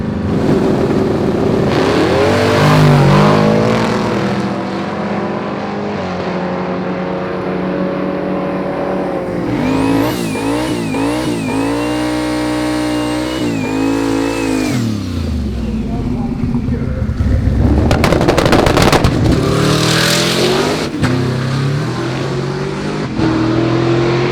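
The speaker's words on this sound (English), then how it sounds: "A couple of guys staged up, ready to go, so let's see what they run." Drag race cars launch at Famoso Drag Strip during a multi-day event, with loud engine roars, a sharp rising whine as one car accelerates away, and crackling engine bursts later, heard nearby alongside crowd noise and some talking.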